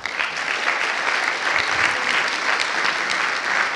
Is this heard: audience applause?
yes